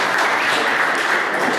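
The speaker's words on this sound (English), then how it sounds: "So a warm round of applause for Audrey as well," An audience at a conference panel gives a short, dense round of applause for a newly introduced panelist, continuous and even for its whole length.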